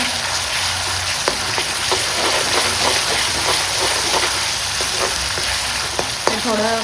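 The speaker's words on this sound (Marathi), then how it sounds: "ते थोडं तेलावर परतवते." Green chilli paste made with ginger, garlic, coriander and coconut sautéing in oil, a loud, close sizzle with a rapid run of stirring scrapes and clinks, and a brief voice near the end.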